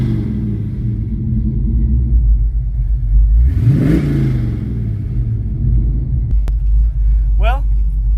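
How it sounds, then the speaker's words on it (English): A loud, deep engine of a 1971 Chevrolet Chevelle Malibu restomod idles with a heavy rumble, then revs up sharply once and settles back down, close by. "I'll give it a little rev for you guys."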